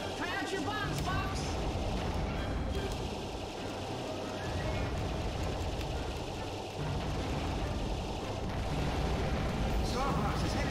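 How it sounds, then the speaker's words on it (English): Bombs exploding in the video game Star Fox Assault form a dense, unbroken barrage of booms and blasts, loud and continuous, with voices mixed into the din. "Try out your bombs, Fox."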